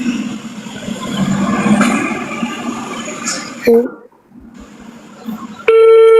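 A phone call rings out on a line, with a short tone and then a steady electronic ringback, partly under background noise and a voice at the start.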